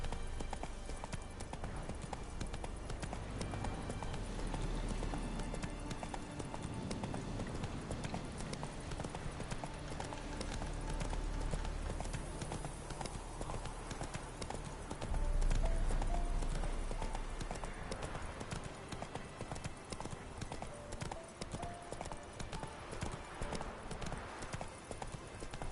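Roach the horse's hooves clip-clop steadily in The Witcher 3, a continuous rhythmic trot over a busy game soundscape with music, growing louder around the middle.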